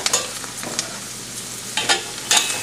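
Cabbage and mixed vegetables stir-frying for Indian-style Chinese fried rice, a soft steady sizzle broken by a few scraping stirs of the spatula, close and fairly quiet with no talking.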